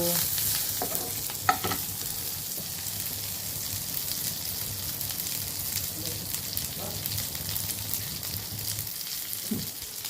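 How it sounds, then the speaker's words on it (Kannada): Tomato chutney ingredients with curry leaves fry on a low flame, a continuous close sizzle broken by stirring clatter and a few sharp utensil knocks, with no voice heard. "ಇದನ್ನು ಸ್ವಲ್ಪ ಫ್ರೈ ಮಾಡ್ತೀನಿ"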